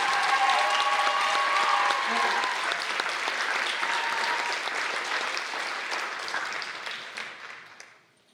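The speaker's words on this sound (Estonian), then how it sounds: "Suur aplaus!" A large crowd applauds at a fashion show, loud dense clapping that holds steady and then gradually tapers off and fades out near the end.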